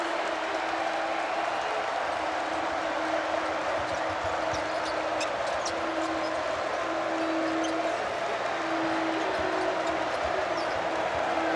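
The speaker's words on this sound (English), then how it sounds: "Listen to this crowd." Home crowd at an Illinois at Indiana Big Ten men's college basketball game in 2023 keeps up a steady, loud roar throughout, with scattered ball bounces and a sustained tonal note from the arena running underneath.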